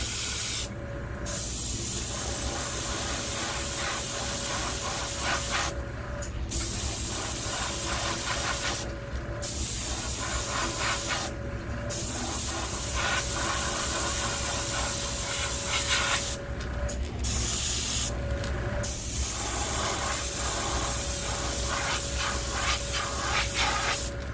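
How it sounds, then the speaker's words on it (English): An airbrush sprays paint at light pressure, about 20 psi, onto a vintage Storm Wiggle Wart fishing lure, hissing in long steady bursts separated by brief pauses, close and continuous, with no talking. "I'm spraying this with very light pressure, about 20 pounds."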